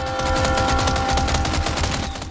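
The Chicago Sweeper submachine gun in Resident Evil 4 Remake fires a sustained rapid automatic burst, loud and continuous with a fast, even rhythm of shots.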